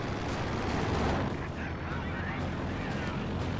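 Light machine gun fire rattles in Company of Heroes, a dense, continuous battle din of rapid shots and booming artillery-like blasts that stays loud and steady throughout.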